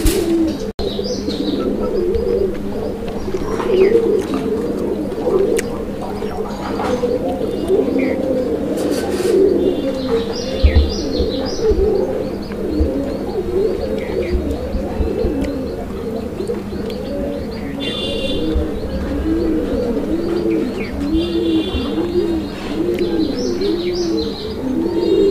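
Raj Golla pigeons, including a red coloured Raj Golla, coo in steady repeating rounds close by, with occasional chirps and a faint background hum throughout.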